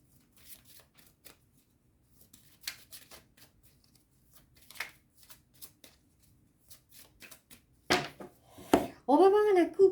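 Tarot cards shuffled and cut by hand, a run of soft riffling flicks and taps growing louder and busier toward the end, with a brief voice in the mix.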